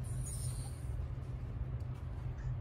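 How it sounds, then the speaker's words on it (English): Refrigerant flows through an opened valve on a Snap-on PolarTek A/C service machine, a steady low rushing hiss with a faint high whine, continuous and even throughout, with no talk. "by turning it counterclockwise, you're going to hear the flow of refrigerant."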